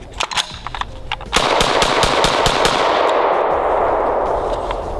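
A Glock pistol mounted in a Recover Tactical PIX+ chassis fires a few sharp separate shots, then a fast continuous string of loud close gunfire lasting several seconds.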